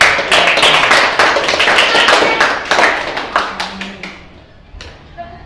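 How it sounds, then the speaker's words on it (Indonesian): A school class claps hands together, a loud burst of sharp, closely spaced claps that thins into scattered, separate slaps and fades out toward the end. "Kita tepuk tangan untuk"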